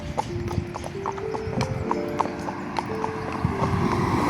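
A pony walking outdoors on a trail, its hooves clip-clopping in a steady, close rhythm under a faint background hum.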